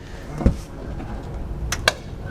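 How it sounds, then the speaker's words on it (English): A sharp thud followed by two quick metallic clanks as a poorly fitting Ford Mustang Mach-E hatch knocks against the bodywork, over low road rumble. "That is the sound of the hatch banging against the side of the bodywork because it doesn't fit"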